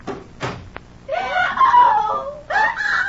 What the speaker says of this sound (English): What was that scream I just heard?